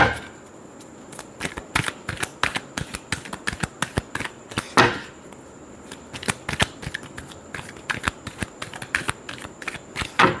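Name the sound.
shuffling tarot cards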